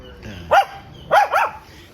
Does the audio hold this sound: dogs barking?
yes